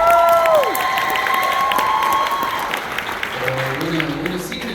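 Audience at an eighth graders' school musical of The Legend of Sleepy Hollow applauds and cheers loudly, with sustained clapping, shouts and a few whistles under a crowd roar that slowly fades.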